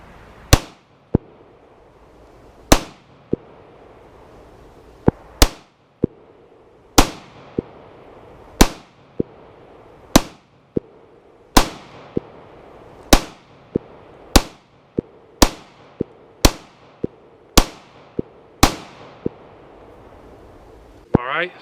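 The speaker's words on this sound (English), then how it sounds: "let me move and shoot the rest on that right target there" Kel-Tec PMR-30 pistol fired at targets on a range, about a dozen and a half sharp, loud close shots at irregular intervals, some in quick pairs, each followed by a brief ringing decay.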